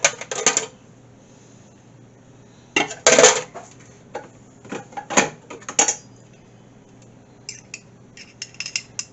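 A metal fork scraping and clinking minced garlic into a measuring cup, sharp irregular taps and scrapes in short bursts separated by quiet pauses, close and fairly loud.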